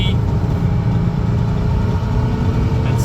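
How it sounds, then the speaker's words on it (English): A car engine runs steadily in gear, a loud, constant drone of mechanical hum heard from inside the vehicle while the differential is tested after a diff change to a 3.9 spool. "Doing a diff change, so let's see, we're revving at 40 Ks."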